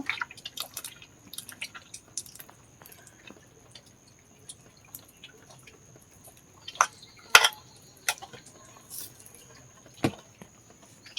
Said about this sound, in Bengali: এরকম করে ছেঁকে নেব।